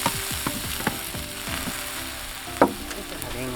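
Shrimp dropped into a pan and frying with a steady low sizzle, punctuated by several sharp clicks and taps of ingredients and utensils, one louder knock near the end, no talk.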